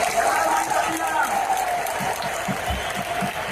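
Audience applause for the team at a 23rd anniversary event, a sustained wash of clapping from a large crowd for several seconds, with a voice speaking faintly over it.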